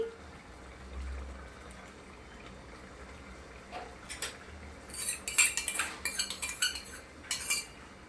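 A spoon stirring fresh cream into palak paneer curry in a pan: quiet at first, then a cluster of close metallic clinks and scrapes against the pan in the second half.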